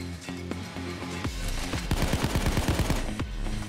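Gunfire in Payday 2 during a nightclub heist, a rapid string of sharp shots and bursts taking down a sniper, dense and loud over a steady game background hum.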